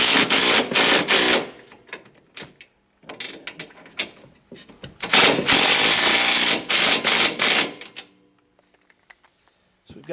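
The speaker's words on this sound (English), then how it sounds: "now we'll go ahead and tighten up these shock bolts" A power tool tightens shock bolts on a Polaris Ranger SP 570 lift kit in loud, close bursts: several short hits, then a longer run of whirring and rattling, with a voice talking in the gaps before it falls quiet.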